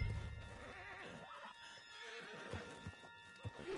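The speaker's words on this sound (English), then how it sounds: "On the back of John's horse" A horse in a video game whinnies, and hooves clip-clop beneath it, all fairly faint under a busy game soundscape.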